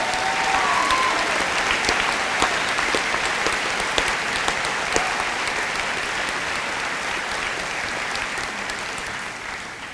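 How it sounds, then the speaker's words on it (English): At a high school graduation ceremony, the audience fills the hall with sustained applause. The clapping stays broad and steady, with a few sharper individual claps standing out, and eases off slightly toward the end. "That deserves another round of applause."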